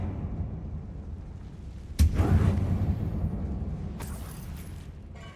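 A Confringo blasting spell goes off inside an abandoned mine in Hogwarts Legacy, one sharp booming impact followed by a rumbling tail, then a quieter crackling burst a couple of seconds later.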